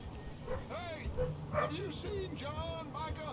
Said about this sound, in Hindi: ये कुत्ते क्यों बाहर भौंक रहे